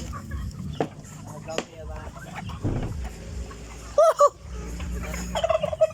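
A turkey gobbles in short, warbling bursts amid outdoor background noise, with people talking nearby.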